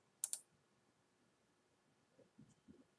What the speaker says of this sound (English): I'm going to click on that.